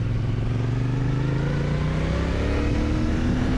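An Ibex 450 motorcycle engine drones steadily while riding off-road, its pitch climbing gradually under load with a continuous close, loud tone and no pauses.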